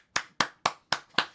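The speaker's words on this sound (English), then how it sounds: "Round of applause for you boys." Five sharp hand claps in a slow, even rhythm, close and crisp in a quiet room, with no crowd behind them.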